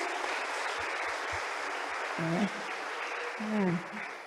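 A university hall crowd of new engineering students applauds their fellow classmates with a dense, steady wash of clapping while a voice speaks over it.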